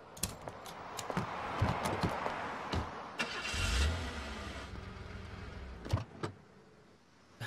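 A car engine cranking and catching after a fuel tube fault was fixed, with clicks and a starter whir building into a brief surge of engine noise, fairly quiet and close, no talking.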